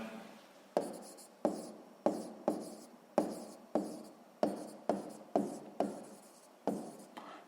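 A pen moves over paper as a maths exercise is written out by hand, about a dozen quiet, regular strokes, each starting with a sharp tap and then a scratchy trail, with no talking.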